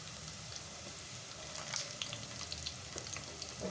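Asafoetida frying in hot oil for a mutton dry and dal lunch, a soft, steady sizzle with scattered faint crackles that stays quiet and even throughout.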